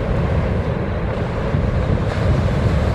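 Ocean waves surge and break in a coastal gully, a loud, continuous rush of surf churned with wind noise.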